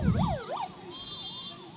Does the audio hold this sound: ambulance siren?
yes